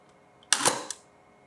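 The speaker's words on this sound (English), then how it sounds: "hopefully when I hit the shutter, as the cable is connected to the air remote, we should get a flash" A single sharp mechanical clack from the shutter release of a Mamiya RB67 medium format camera, loud and close, with a brief trailing rattle and a smaller click just after, in a quiet room.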